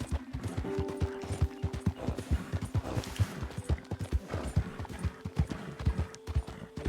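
Steady clip-clop of several horses' hooves trotting nearby in Red Dead Redemption 2, a faint whinny and mechanical clatter mixed in over a continuous low hum.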